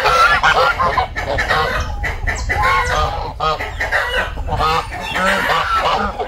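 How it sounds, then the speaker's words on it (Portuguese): Farmyard chickens clucking busily with a rooster crowing and geese calling among them, a dense overlapping chorus of bird calls close by and loud, with bursts and short gaps. "É galinha botando, é galo cantando, ganso."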